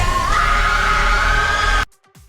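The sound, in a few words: woman screaming in The Black Phone 2 trailer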